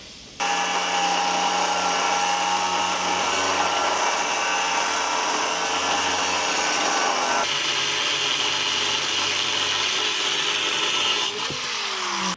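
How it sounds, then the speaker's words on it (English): A power saw cuts through tubular seat belt mounts on a Can-Am Defender with a loud, steady grinding whine that holds for about eleven seconds and then stops abruptly, with no voices. "the last ones we need to cut off are these seat belt mounts"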